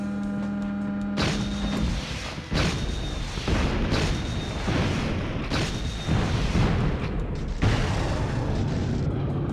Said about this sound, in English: But luckily I have a rocket launcher